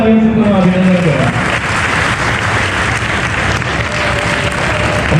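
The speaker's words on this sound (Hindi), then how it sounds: "एक बार जोरदार तालियों से पूरा अभिनंदन करें" Audience at a district-level school entry festival applauds loudly and steadily, a dense wash of claps continuing the whole time, with a voice speaking over it at the start.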